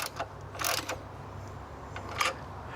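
Wrench working on a car battery terminal clamp, giving a few short metallic ratcheting clicks in bursts over a low steady hum, close by.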